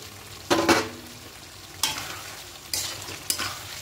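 Fried potatoes tipped into spice masala and stirred in a pan, a few sharp scraping bursts with sizzle between quieter pauses.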